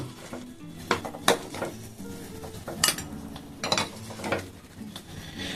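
A metal spoon clinks and scrapes against a bowl as syrup-soaked green chilli rasgullas are lifted in, giving several sharp, irregular taps and clatters close by with no talking.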